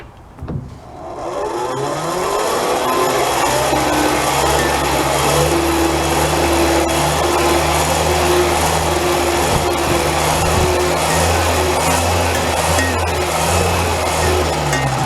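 A World War II engine heater, cranked by hand with its nozzle lit, builds from a brief start into a loud, steady roaring hum with a mechanical whir that holds at constant intensity throughout.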